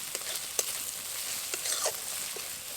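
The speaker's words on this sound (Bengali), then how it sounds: "এখন মশলাটাকে খুব ভালোভাবে কষিয়ে নেব" Spice masala of ground cumin and salt frying in oil in a pan while being stirred for a village-style Bengali magur fish curry, a steady bright sizzle with soft scraping stir strokes, close, no voices.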